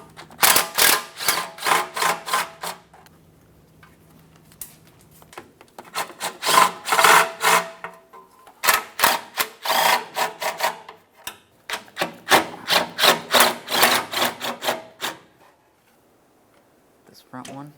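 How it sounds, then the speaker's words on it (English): A ratchet wrench loosens the oil pan bolts on a 1994-2002 Dodge Ram 2500, close by, in three separate bursts of rapid metallic clicking with short quiet gaps between them. "I'll loosen that first bolt"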